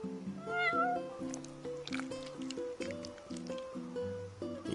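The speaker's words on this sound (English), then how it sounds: "You're one spoiled cat." A cat in the video game Final Fantasy XV meows repeatedly, a run of close, pitched mews and drawn-out calls layered over gentle background game music.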